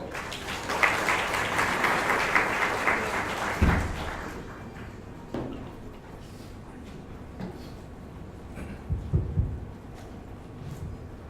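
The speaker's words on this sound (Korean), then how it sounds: "박수로 맞아주세요." Audience applause welcomes a speaker to the stage at a Korean blockchain and smart contract conference session, steady clapping for about four seconds before fading out, followed by a few scattered thumps in a quiet hall.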